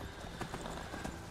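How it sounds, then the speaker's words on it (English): Horse hooves clip-clopping at a steady gallop in the Skyrim video game, with a brief whinny among dense, continuous game ambience; no talking. "All right, Lydia, call your horse. Oh, she did"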